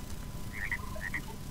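Frogs croaking in the Minecraft Hexxit modpack, a few short chirpy croaks over a steady low game ambience, fairly faint and without talk.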